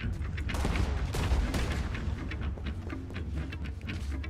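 Cannon and gunfire in a Red Dead Redemption 2 beach battle, a dense continuous barrage of booming blasts and rapid shots with no clear gaps between them.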